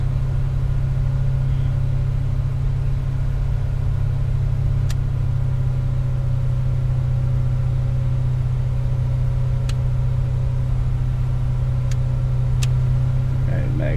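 An aircraft piston engine holds a steady run-up near 2,000 RPM in Flight Simulator X with an A2A model, a loud constant drone with a strong low hum and a few faint clicks.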